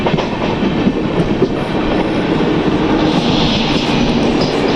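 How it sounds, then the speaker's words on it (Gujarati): The Haridwar Bandra Express passes a railway crossing beyond Miyagam Karjan, a loud close roar of wagons with rhythmic wheel clatter and faint squeal, continuous and unbroken. "ટ્રેન આવી રહી છે, એનું ક્રોસિંગ છે."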